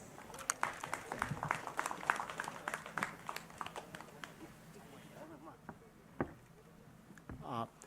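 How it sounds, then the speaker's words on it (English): An audience at a cultural function in the Poumai Lepaona area claps to welcome the chief guest. The sharp claps are scattered and fairly faint, thin out, then stop, and a voice speaks near the end. "Let us give a warm round of applause as we welcome our chief guest."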